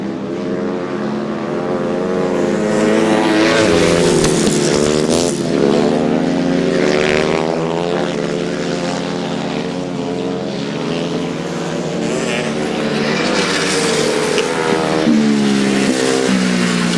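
Grasstrack motorcycles racing at a regional championship meeting, a loud continuous snarl of several engines rising and falling as bikes pass near, with no voices over it.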